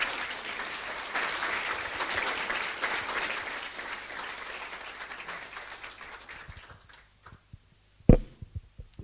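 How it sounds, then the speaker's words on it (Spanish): A church congregation claps loudly for several seconds, the applause thinning and fading out toward the end, followed by a few scattered sharp knocks and noises in a quieter room. "Aplauda al Señor, si es para el Señor, aplauda"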